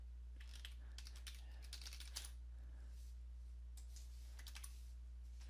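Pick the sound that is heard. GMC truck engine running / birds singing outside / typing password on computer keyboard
typing password on computer keyboard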